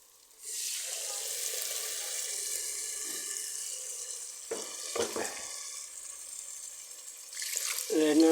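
Water poured into a pan of ground fish curry masala with a steady hiss and splash, followed by a few clinks and stirring sounds, with a brief voice at the end.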